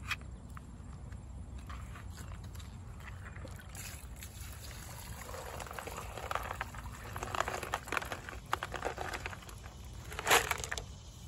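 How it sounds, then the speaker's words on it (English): Water poured from a pot into a container in a small backyard while a solar-powered fountain is set up: quiet, soft splashing and trickling that grows busier midway, with light knocks and handling noises, no talking. "I'm going to pour this off and then I'm going to add this to the container over on the other side"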